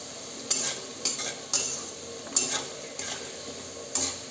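Spices and salt being sautéed in a pan, a soft steady sizzle broken by regular scraping strokes of a spatula roughly every half second, close and clear, with no voices.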